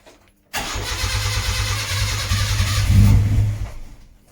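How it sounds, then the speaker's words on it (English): A Nissan Micra K10 with a high-compression CG13 engine and individual throttle bodies cranks briefly and fires up after a moment of quiet, settling into a loud, rough, uneven idle that swells toward the end. "Now all we need to do is see if the engine still fires up and runs."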